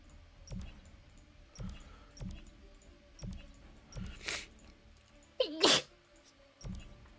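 A single sharp human sneeze bursts out loudly near the middle, set against a faint, steady rhythmic thumping in the background of a game.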